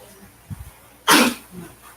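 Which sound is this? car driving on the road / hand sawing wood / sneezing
sneezing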